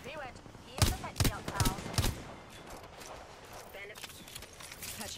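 Rapid weapon fire in the shooter video game Apex Legends, four or five sharp shots in quick succession followed by fainter fire, all under a player talking steadily.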